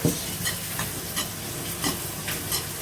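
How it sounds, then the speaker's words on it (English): Quinoa mixed with a pinch of ras el hanout being stirred in a pan, soft repeated scraping strokes over a low steady sizzle, no talking. "basically you just want to mix your quinoa mix"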